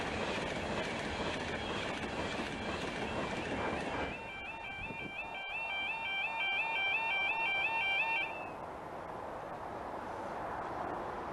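A train rumbles past in the misty Scottish lowlands, loud and close, with a high squealing or warning tone rising over the rolling noise midway before easing off.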